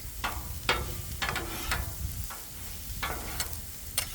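Vegetables fry in a little oil on a Blackstone griddle, a constant close sizzle punctuated by sharp, irregular spatula scrapes and taps against the hot flat-top surface, with no one talking.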